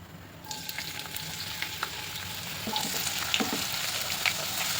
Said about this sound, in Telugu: ఆయిల్ హీట్ అయిన తర్వాత ఆనియన్స్ వేసుకోవాలండి